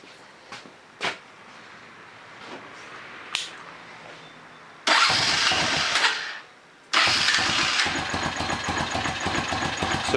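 A Honda Foreman ATV with a running fault, a few clicks and cranking attempts, then the engine catches and runs loudly, briefly drops off, and restarts into a steady close rumbling idle.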